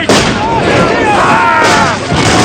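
Ranks of infantry fire a musket volley in a 1993 period TV drama, a loud booming crackle that starts abruptly and rolls on for a couple of seconds.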